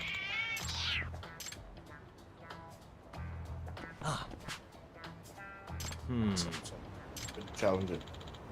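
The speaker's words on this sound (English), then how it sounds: "Oh, there's a stray cat." A stray cat in the video game Lost Judgment gives several short, rising meows spread across the clip, with someone talking over them at times.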